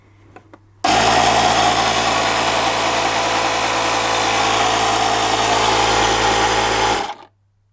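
An electric air pump inflates a mini BMX tyre, running loud and close as a steady buzzing drone for about six seconds before cutting off abruptly.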